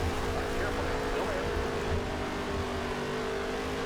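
NASCAR Heat 3 race cars roar together at the start of a race, a dense steady engine drone with a faint rising whine of revving.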